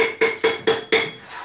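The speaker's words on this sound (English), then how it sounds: "You go hammer down each side, okay? With a long face hammer." A long face hammer striking a handsaw blade while straightening it, five evenly spaced ringing metallic blows with a bright tone, close and loud, no talk.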